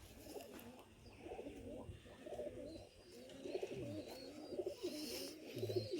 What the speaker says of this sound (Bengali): অত্যন্ত ছটফটে পায়রা, অত্যন্ত।